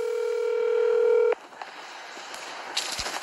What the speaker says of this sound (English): You can hear that ringtone, right?